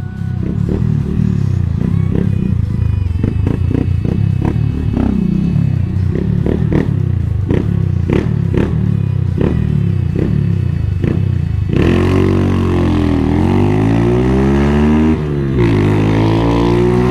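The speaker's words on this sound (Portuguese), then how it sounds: "só tacar a quinta marcha e acelerar de boa" A motorcycle engine drones steadily in fifth gear, then its pitch sweeps upward as it accelerates harder near the end, loud and close throughout.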